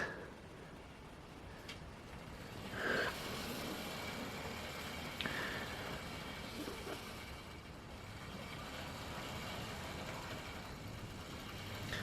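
A Hornby LNER Hunt Class model locomotive runs on its track, a faint, steady motor hum with light ticking from the wheels and rail joints, heard quietly and continuously.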